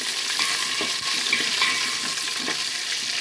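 Biryani masala, cumin seeds and kasuri methi sizzling in a hot pan, a loud, steady close frying hiss with faint stirring scrapes and no voices.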